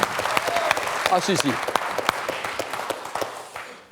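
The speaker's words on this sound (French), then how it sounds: "Ça s'applaudit" Studio audience applause on a French TV quiz show, a loud sustained burst of clapping with a brief voice and a short musical sting over it, fading away at the end.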